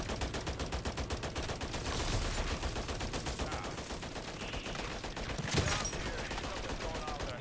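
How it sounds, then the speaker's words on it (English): Holger 556 rifle hip-fired in MW3 Zombies, a fast, continuous stream of automatic shots with a rapid even rhythm, fairly loud and sustained throughout. "that's pure hip fire"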